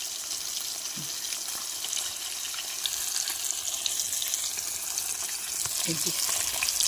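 Pieces of mrigal fish frying in hot oil for a kalia curry, a loud continuous hiss and crackle that stays steady, with a couple of faint clinks and no talking.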